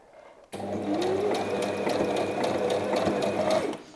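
A domestic sewing machine stitches sweatshirt fabric in one steady, continuous whirring run that starts abruptly and continues close and loud, with a faint rhythmic mechanical clatter beneath.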